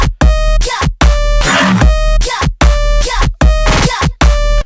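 Loud synth lead built in the Serum plugin, bright buzzy stabs in short choppy bursts with hard gaps between them and a deep low layer underneath.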